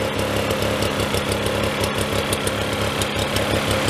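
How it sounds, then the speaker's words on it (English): A small engine idles steadily with a quick, even chug, close and continuous, from a lawn mower or small-engine machine whose frame is badly rotted. "Sounds like an outboard motor engine."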